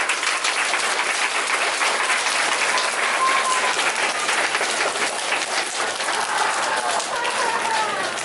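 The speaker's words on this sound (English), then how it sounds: "Can we give a great big round of applause to Howie, our color guard?" Dense, continuous applause from a crowd at a school Flag Day ceremony for pre-kindergarten and kindergarten, honoring the color guard; a steady, loud roar of many hands clapping without pause, with no voices over it.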